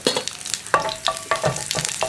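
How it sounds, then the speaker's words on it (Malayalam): Garlic tossed into hot oil with already popped mustard seeds for tomato chutney sizzles loudly, with sharp crackles and pops spaced through the spell and no talking. "നമ്മുടെ കടുക് പൊട്ടി കഴിയുമ്പോൾ ഈ വെളുത്തുള്ളിയും കൂടി ചേർത്ത് കൊടുക്കുക."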